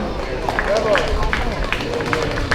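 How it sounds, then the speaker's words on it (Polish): Crowd applause at a harvest festival, dense and continuous clapping filling the clip with general crowd murmur mixed in. "Wielkie brawa!"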